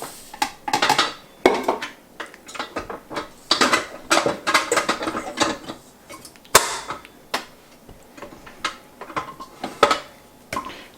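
Sugar goes into unsalted butter in a mixing bowl with a steady run of close, sharp clicks, taps and scrapes from a utensil against the bowl, repeated irregularly and with no talking.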